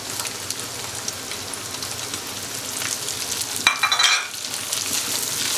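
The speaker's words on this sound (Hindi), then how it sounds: "अब हम इसमें बंद गोभी ऐड करेंगे।" Chopped cabbage drops into a hot pan of oil with boiled rice for Chinese-style biryani, setting off a loud, steady sizzle with a sharper burst of crackling and stirring midway, no voices.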